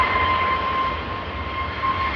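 A China Eastern airliner takes off from Kunming Changshui airport, its engines a steady, broad roar with a thin tonal whine held throughout, no voices.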